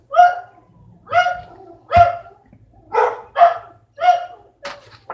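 Puppies barking in short sharp yips, about eight separate barks spaced roughly every half second to a second, close and loud over a faint low hum, with no one talking.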